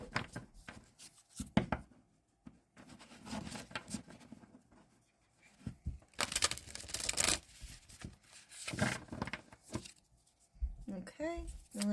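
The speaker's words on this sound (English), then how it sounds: "let's shuffle them like this too" Papery riffling and brisk shuffling of a tarot card deck in bursts, close by, with quiet pauses between rounds.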